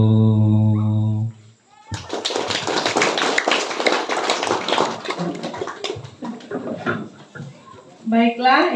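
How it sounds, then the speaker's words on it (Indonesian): Audience applause after a village head candidate's campaign speech, a burst of clapping from a gathered crowd following a held tone, with a voice talking over it and the clapping thinning toward the end. "Sekali lagi tepuk tangannya buat Iputu Febri Aditya."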